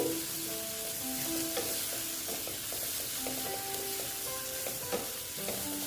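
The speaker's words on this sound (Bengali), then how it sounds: "আমি অল্প নেড়ে চেড়ে নিলাম আমার কিন্তু মশলাটা প্রায় কষানো প্রায় হয়ে গেছে আর একটু কষিয়ে নিচ্ছি" Spice paste for a boal fish curry sizzles and is stirred in a hot pan, a steady close frying hiss with intermittent scrapes and clinks throughout.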